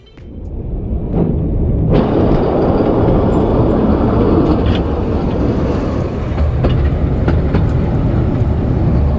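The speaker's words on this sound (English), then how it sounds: "we can also listen now to the typical sound of this steam train" A narrow gauge steam train on the Bad Orb–Wächtersbach line runs steadily close by, with continuous rumbling and rhythmic clattering of wheels on track and occasional sharp clanks.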